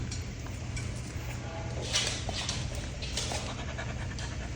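Very small micro-bred puppies pant in a quick, steady, faint rhythm close by, alone against low background hum.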